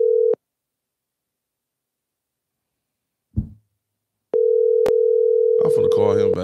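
A telephone dial tone sounds briefly, stops for a few seconds, then returns as a steady loud tone while a call is placed. A click cuts in and a voice starts speaking over the tone near the end.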